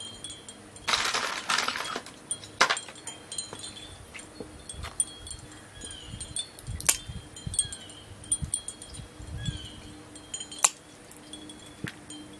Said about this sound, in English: those are glass, and they will cling together